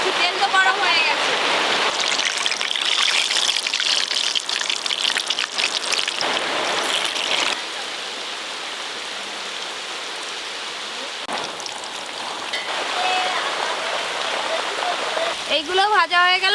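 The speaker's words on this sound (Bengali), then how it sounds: "এত জোরে বৃষ্টি চলে এসছে" Heavy rain pours down in a steady, loud hiss throughout, easing slightly midway before building again, with voices talking over it near a kitchen stove.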